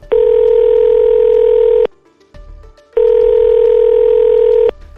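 A telephone line on hold while a call is being connected gives two long, loud steady tones separated by a short gap of faint line noise.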